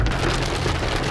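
Hail pounding down during a sudden storm encountered on an outdoor trip in Queensland, a dense, loud, continuous roar of impacts with no gaps, filling the whole moment.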